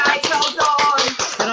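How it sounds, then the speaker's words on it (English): A group claps together in rhythmic bursts, about eight loud close beats spaced evenly over a second and a half, with mixed voices underneath. "just give yourselves a big clap for all of those"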